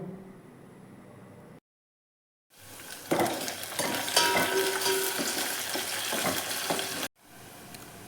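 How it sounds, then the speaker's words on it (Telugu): Tempering spices, green chillies, dried chillies and onions frying in hot oil for tomato rasam, a loud crackling sizzle that swells after a short silence and holds for several seconds, with quieter kitchen noise before and after. "తాలింపు దినుసులు, 2 పచ్చిమిరపకాయలు, ఎండుమిరపకాయలు, ఆనియన్స్ వేసి బాగా వేయించాలి."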